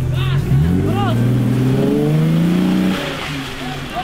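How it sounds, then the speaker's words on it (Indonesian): An off-road jeep engine revs hard at full throttle for traction on a muddy extreme off-road course at Sentul, a loud, close, rising roar that eases near the end, with voices over it. "baru diinjek gas full buat dapat si traksinya"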